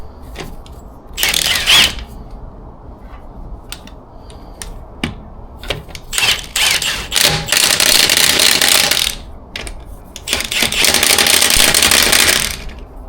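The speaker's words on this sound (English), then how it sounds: "I've got the Milwaukee gun. This has got the electronic torque settings on it" Milwaukee cordless impact gun with electronic torque settings, set to 120, driving wheel nuts back onto BMW alloy wheels: several loud hammering bursts of varying length separated by pauses and small clinks.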